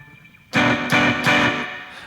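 Electric guitar through an overdriven amp simulation in Ableton Live with low cut, reverb, delay and glue compression: three distorted strummed chords, loud and close, each ringing into a reverberant tail.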